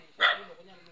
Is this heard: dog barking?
yes